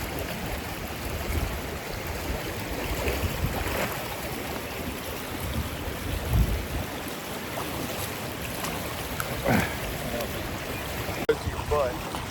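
Steady broadband rush of water pours over a waterfall dam at an old movie set campsite, a constant loud wash filling the whole stretch with no pauses.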